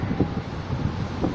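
Steady wind gusting outdoors on an elevated spot on Tom Sawyer Island at Disneyland, a continuous low rumbling roar buffeting the microphone throughout.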